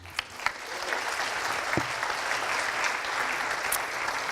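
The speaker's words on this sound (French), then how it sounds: "on peut l'applaudir Philippe" Steady audience applause fills a French wine-tourism conference hall, dense clapping from a sizeable crowd holding even throughout, with a couple of sharper individual claps near the start and no talking.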